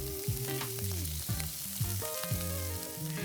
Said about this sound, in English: crumbled fresh Italian sausage that's seared in extra virgin olive oil until the fat's rendered out